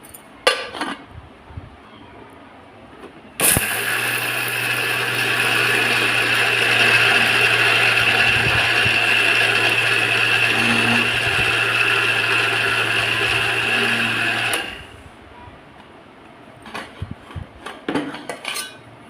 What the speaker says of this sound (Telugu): ఈ విధంగా పప్పులు వేసుకొని మిక్సీ పట్టుకోవాలి